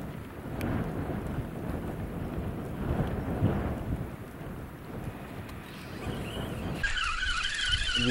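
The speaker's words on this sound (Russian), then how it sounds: "Ветрище разыгрался, ребят." Strong spring wind roars steadily across open water at a carp fishing spot, a broad continuous rush with gusts swelling and easing, heard alone without voices and brightening near the end.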